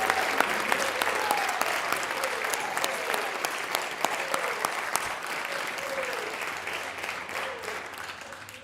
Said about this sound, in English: please give another round of applause for the graduates of RCOO Class 2302